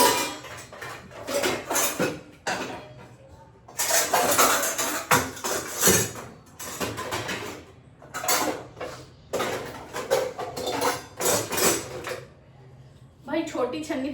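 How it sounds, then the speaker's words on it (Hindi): Metal utensils and dishes clank and clatter as they are sorted and stacked in a home kitchen, coming in busy bursts with short pauses, while someone talks now and then. "उस वजह से हमें पूरे बर्तन लगाने पड़ रहे हैं।"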